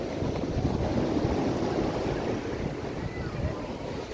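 Waves and wind at a free beach in Singkawang make a steady rushing roar with heavy low wind buffeting on the microphone, close and continuous throughout.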